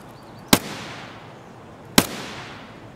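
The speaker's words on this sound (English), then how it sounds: "Can't tell where you're shooting." Two sharp, loud gunshots crack about a second and a half apart during an Escape from Tarkov raid, each followed by a long echoing tail over quiet ambience.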